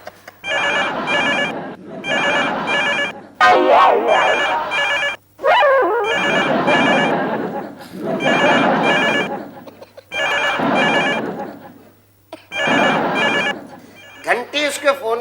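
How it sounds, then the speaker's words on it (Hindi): A mobile phone rings in repeated bursts of electronic tones with short gaps between them, loud and close, while a voice speaks in between. "घंटी उसके फोन की बज रही है लेकिन वो उठा नहीं रहा है।"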